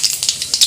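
Cumin seeds sputter in hot oil for tempering, giving a close series of short, crackling pops and a bright hiss.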